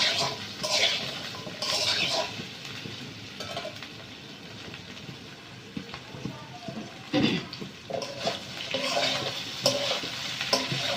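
Okra and egg fry lightly in oil in a pan, a soft sizzle broken by stirring scrapes and clinks of a utensil against the pan, fairly close, with a voice speaking now and then.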